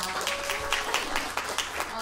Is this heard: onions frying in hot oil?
no